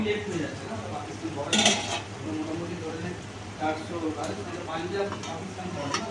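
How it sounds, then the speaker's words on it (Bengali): A lid is lifted off a cooking pot of chilli chicken, giving a short bright metallic clank midway. Soft clinks of cookware and a quiet sizzle run underneath, with a voice talking at times. "এবার ঢাকনাটা খুলে আমি চেক করব।"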